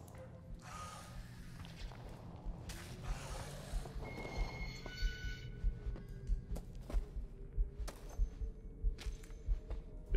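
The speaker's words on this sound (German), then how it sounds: "Den Herzschlag." Heartbeat in the horror video game Resident Evil Village thumps in a slow, steady rhythm, growing more prominent under dark ambient rumble and scattered clanks, fairly faint overall.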